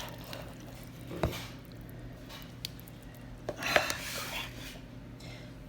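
Ingredients are stirred in a kitchen bowl, with soft squishing and a few clinks of a utensil against the dish. The sounds are close and moderately quiet over a low background hum.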